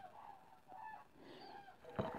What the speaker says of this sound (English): My window is open and you can hear birds clearly